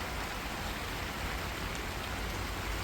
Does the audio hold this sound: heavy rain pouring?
yes